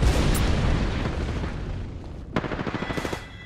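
A missile explosion in the battle-royale shooter Apex Legends: a loud, rumbling blast that slowly fades, then a sharp crack followed by a quick rattling series of smaller bursts.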